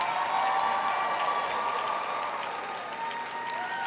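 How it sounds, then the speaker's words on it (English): A graduation audience at an early college high school applauds student groups, steady full clapping from a large crowd heard at moderate distance with no talk. "Let's give them a round of applause."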